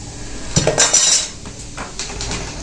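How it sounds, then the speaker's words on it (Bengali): A double needle lock stitch sewing machine is lifted and tipped over, giving a burst of close metallic clanks and rattles followed by lighter knocks and scrapes. "এই টাইমিং করার জন্য আপনাকে মেশিনটা উঠিয়ে নিতে হবে।"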